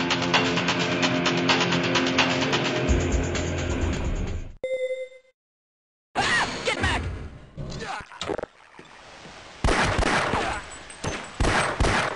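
Gunfire in a firefight in the video game Half-Life: Uplink, with sustained rapid automatic bursts, a short electronic tone, a brief silence, and then more scattered shots and blasts, loud and close.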